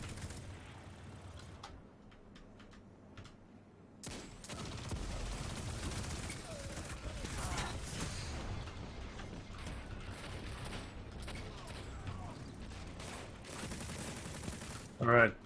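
Rapid bursts of SMG fire from a first-person shooter game, dense and continuous through most of the stretch, with a quieter lull early on and a louder final burst near the end.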